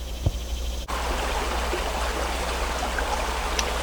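Stream water flowing steadily at a creek crossing on a wilderness trail, a continuous broad rushing and trickling close by, with a brief disturbance near the start and no talking.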